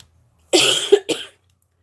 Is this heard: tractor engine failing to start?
no